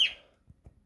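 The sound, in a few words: birds chirping outside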